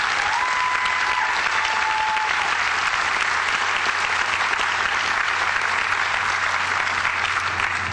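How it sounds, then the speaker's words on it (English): Sustained, dense applause from a large audience at a UMass Boston commencement, honoring a graduate's family as they stand. The clapping stays steady and loud for the full stretch, with a couple of brief whistles early on. "Stand up, family, so we can give you a round of applause."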